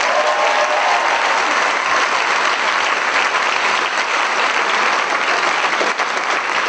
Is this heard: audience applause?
yes